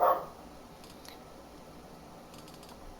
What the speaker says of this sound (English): if you hear my dog barking in the background